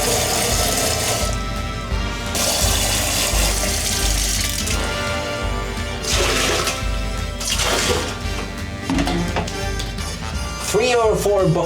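Water dumped from a bucket into a manual pour-flush toilet in the Philippines, several loud rushing pours with gurgling and draining between them, close by.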